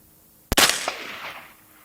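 A single sharp rifle shot through a Continental 2-12x44 scope setup while hunting, cracking loudly at once after a quiet start and then rolling away in a long fading echo.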